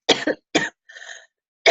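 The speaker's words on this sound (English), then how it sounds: "I'm just going to do a little cough break here." A speaker pauses during a webinar to cough, giving three separate coughs close to the microphone, the first a quick double burst, with a softer throat-clearing rumble between them and no talk.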